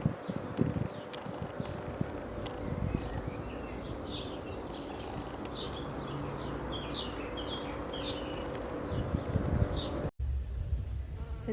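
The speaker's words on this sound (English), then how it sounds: "There's a bee enjoying the mini rose." A bee buzzing around a mini rose in a garden, a continuous close drone lasting several seconds, with small birds chirping faintly in the background.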